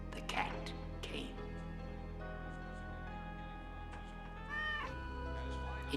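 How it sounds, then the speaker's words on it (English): A cat meowing, several drawn-out plaintive meows near the start and a rising caterwaul near the end, over a steady low hum with a voice speaking. "Then the cat came."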